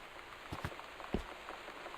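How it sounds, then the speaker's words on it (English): Rain falls steadily on a surface during a storm in the video game Gone Home, a soft continuous patter with a few louder drips and taps, faint and without voices. "it's been raining like crazy and there's a giant storm"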